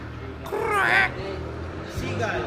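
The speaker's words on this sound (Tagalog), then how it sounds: "Seagull" A loud, close gull gives a harsh wavering call, followed by a second shorter cry, over a low background hum, on the streets of Bournemouth.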